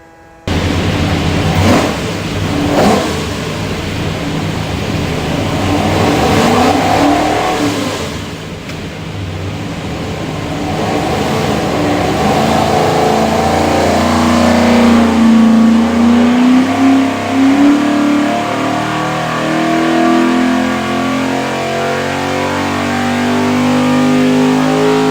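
A 540-horsepower Kinsler stack-injected 427ci Clevor V8 runs on a dyno, rising from a rough idle into a long, loud climbing rev with a rising engine tone, close and steady throughout.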